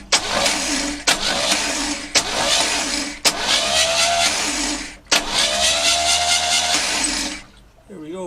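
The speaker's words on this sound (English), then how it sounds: "Now I'm just gonna bump the starter." An AMC 199 engine in a Hudson Hornet is cranked by its starter in a series of loud, close bursts, each a churning whir lasting about a second or two and separated by sharp clicks, with a brief voice near the end.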